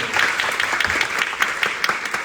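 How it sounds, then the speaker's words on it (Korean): An audience applauds at a Korean film Q&A screening session, a steady wash of many hands clapping at moderate volume and slightly distant. "잘하시고 박수 한번 드립니다."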